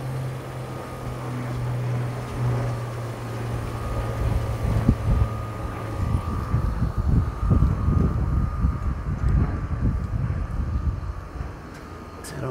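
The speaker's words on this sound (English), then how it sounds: "Looks like they got a new AC system." An outdoor Ruud central air conditioning unit runs beside a home's pool area, a steady low mechanical hum with a droning fan tone throughout, joined midway by rougher broadband rumble and clatter.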